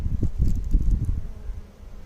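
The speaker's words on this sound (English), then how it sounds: "She does have bees in all the boxes." Honey bees buzz around an opened beehive during a spring inspection, a dense, close, wavering drone with soft rustling underneath.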